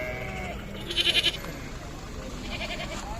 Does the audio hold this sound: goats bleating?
yes